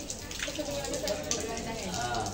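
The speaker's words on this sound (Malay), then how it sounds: "Buka air." Steady rushing water pouring from a tap during Islamic ablution (wudhu), continuous and close, with a voice faintly speaking Malay over it.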